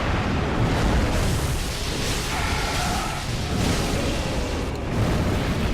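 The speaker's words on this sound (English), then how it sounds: "be ready for this toxic explosion." Toxic explosion attack from a boss in Dark Souls 3, a dense, roaring burst that sustains loudly for several seconds, rumbling and booming throughout.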